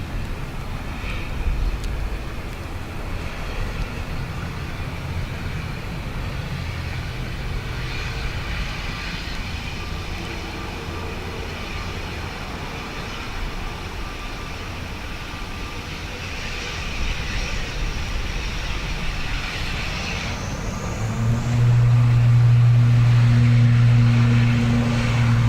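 An airliner takes off from Dublin Airport's runway 10 right on a windy, wet day, its broad engine roar steady and distant at first, then swelling louder and nearer toward the end.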